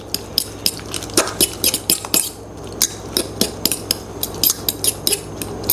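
Metal utensils mixing barbecue rub into meat in a bowl, a rapid irregular run of close clinks and scrapes against the dish, about twenty sharp knocks over several seconds, with no talk.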